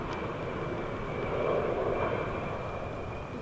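An airplane passes overhead, heard as a steady, broad engine roar that swells slightly in the middle of the clip, at a moderate distance and with no talk.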